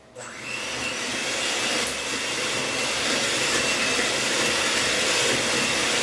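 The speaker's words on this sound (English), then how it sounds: "I like to use my coffee bean grinder" A coffee bean grinder grinding recipe ingredients starts up after a short pause, then holds a loud, steady, close whirring drone for several seconds with no talking.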